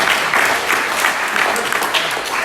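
Room full of seminar attendees giving a round of applause, loud dense clapping from many hands close by, sustained and even throughout with faint crowd murmur underneath.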